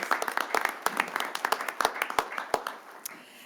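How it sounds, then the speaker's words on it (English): Scattered hand claps from a small audience at a city council meeting, sharp and uneven claps that thin out toward the end. "Okay, another round of applause."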